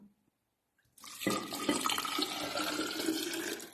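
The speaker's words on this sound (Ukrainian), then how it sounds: "Так, я вже другу баночку влила, а тепер будемо наливати третю." Lukewarm water poured from a jar into a container while mixing a yeast feed for tomato and pepper seedlings; after a second of quiet a steady, close splashing pour starts and runs to the end.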